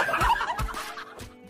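Hen clucking in a backyard flock, three short bursts of fowl calls at close range, fairly loud, with no talk over them.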